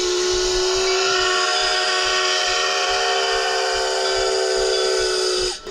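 A steam train passes close by with its steam whistle blowing loud and sustained for several seconds over hissing steam and rumbling wheels, cutting off abruptly at the end.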